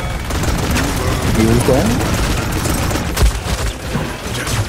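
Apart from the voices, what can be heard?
gunfire in video game Paladins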